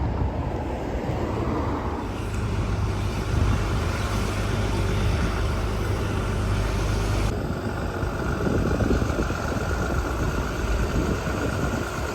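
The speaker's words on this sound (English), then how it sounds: "When you just casually drive your tractor down the street." A tractor's steady low engine rumble rolls slowly along a street continuously with broadband road noise, close and fairly loud, no voices.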